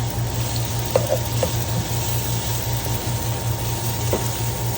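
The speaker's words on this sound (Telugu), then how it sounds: "అప్పుడు టమాటా వేసేస్తాం" Tomatoes go into a pan of chicken curry, with a steady, fairly loud sizzle and frying hiss running throughout, plus a few brief stirring clinks and no talking.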